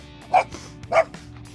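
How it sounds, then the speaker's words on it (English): Dog named Julian barking indoors, two sharp loud barks about half a second apart, close and alone. "Damn dog."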